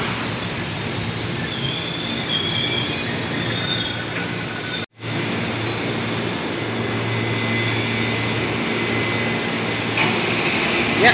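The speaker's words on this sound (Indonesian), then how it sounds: "Cuma sayangnya KRL itu tidak berhenti di Gambir, Francis" A Jakarta KRL commuter train rumbles steadily alongside a platform at Juanda station at night, with a high metallic wheel squeal, pausing briefly before the rolling noise resumes.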